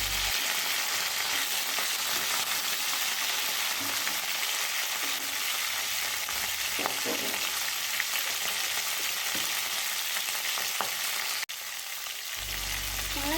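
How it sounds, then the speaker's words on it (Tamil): Crab masala sautés in hot oil, giving a steady, loud, close sizzle with a few faint stirring clicks and no voices. "நல்லா எண்ணெயில் கொஞ்சம் நேரம் வதங்கிட்டேன்"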